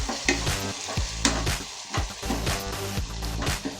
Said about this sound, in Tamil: அரைச்சி வச்ச மசாலாவை ஊற்றிட்டு நல்லா இதை கலந்து விட்டுக்கலாம்.